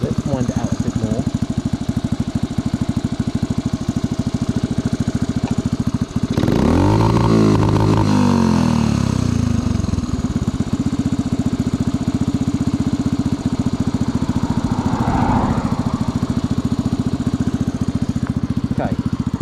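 An old motorcycle with a suspect carburettor, its engine idling steadily before being revved hard for a couple of seconds, the pitch climbing and falling back to a rough, loud idle up close.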